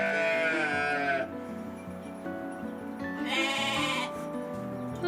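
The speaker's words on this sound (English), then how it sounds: "Sheep are right here, in case you're wondering why I have to talk so loud over them." Sheep bleat loudly at close range on a farm where Muscovy ducklings are kept, two long wavering bleats with a shorter pause between them over steady outdoor background noise, and no talk.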